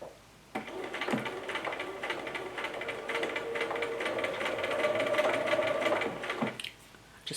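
Sewing machine stitching fabric with a quarter-inch seam allowance, a steady fast mechanical whirring run of several seconds, close and loud, starting and stopping abruptly.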